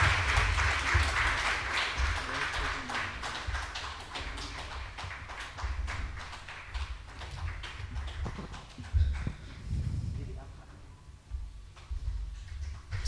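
Audience clapping together at a live spiritual healing session, a dense, steady patter of many hands filling the room, tapering slightly toward the end.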